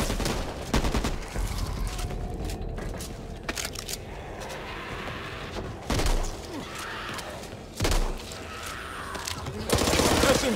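Submachine-gun fire in Back 4 Blood comes in short, sharp bursts and separate shots, spaced between quieter stretches of game ambience, with a louder burst near the end.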